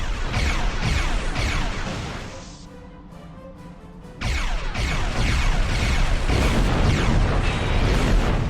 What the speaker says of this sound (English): Oh, plasma torpedo.